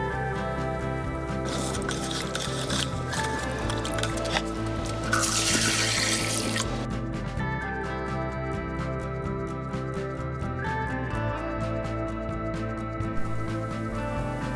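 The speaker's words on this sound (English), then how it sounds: "So after that we can go ahead and filter the water." Muddy water from soaked garden soil runs and trickles steadily through a filter into a container, a continuous close splashing pour with a brief brighter gush midway.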